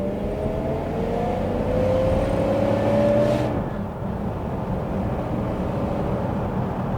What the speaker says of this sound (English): I am going to try the acceleration on this car